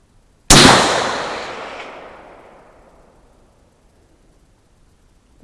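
A single sharp, loud rifle shot from a bolt-action AR15 in 5.56 firing 77 grain Sierra MatchKing hand loads, its report ringing out and decaying slowly over several seconds at an outdoor range.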